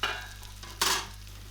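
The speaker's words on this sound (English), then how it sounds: "I'm going to give this a quick flip, and I'm using a non-stick tray here" Omelette flipped in a non-stick tray, a soft scrape and brief sizzle burst midway over a faint steady frying hiss, quiet and close.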